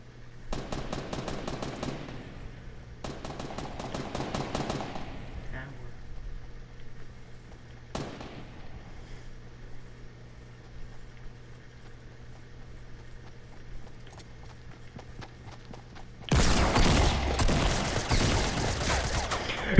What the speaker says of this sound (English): No, he's shooting at somebody right now.